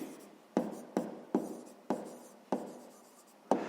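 Handwriting with a pen on paper during a sixth-grade maths exercise: six or seven crisp, close strokes in an uneven rhythm, quiet and alone with no talking.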